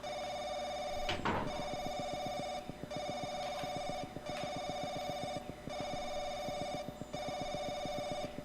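A phone rings in the horror game Paranoiac, with a repeating electronic trill in steady bursts and short gaps between them. It is loud and near, and a brief knock comes early on.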